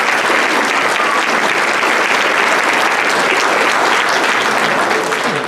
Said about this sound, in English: If you'll give them another round of applause, I think they deserve it.